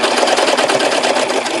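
A sewing machine running steadily at speed for a sublimation cut-and-sew project, a dense continuous mechanical whir with no pauses, close and loud.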